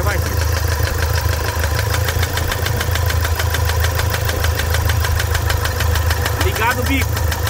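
Toyota SW4 diesel engine idling with one fuel injector switched off, a steady loud rumbling idle with a fine rhythmic knock running throughout, close by, with a brief sharp squeak near the end.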